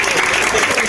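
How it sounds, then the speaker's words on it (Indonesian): A brief burst of audience applause at a history discussion on Gresik, a dense patter of clapping from a crowd heard for under a second. "Tepuk tangan untuk Oyi"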